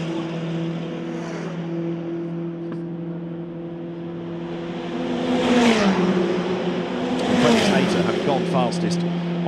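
An FR World Cup formula race car laps the Macau Grand Prix street circuit during free practice, its engine a sustained droning whine that swells as it approaches and shifts pitch, with a commentator talking over it.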